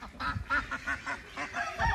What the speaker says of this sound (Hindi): बत्तखों के पीछे भाग रही है चिंटू कैंडी